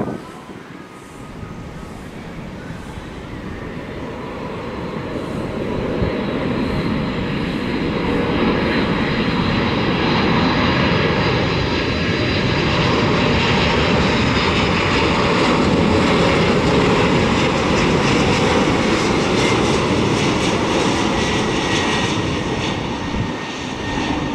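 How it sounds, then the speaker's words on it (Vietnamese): A Cathay Pacific Boeing 747 cargo jet lands on runway 25R at Tan Son Nhat airport at sunset, its engines a steady loud roar that swells and holds over the whole stretch, with wind rush and no talking. "Bây giờ chiếc máy bay hạ cánh xuống đường băng 25 phải."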